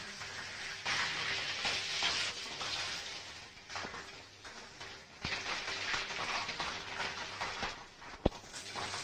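Mushrooms fry in a pan with a broad, hissing sizzle that swells and eases in long waves, with a few faint clicks and one sharp tap near the end.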